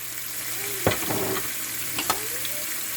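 Aloo keema being stirred with spices in a pan, a steady low sizzle of frying under a couple of sharp scraping stirs of a spoon against the pan, close and moderately quiet, with no talking.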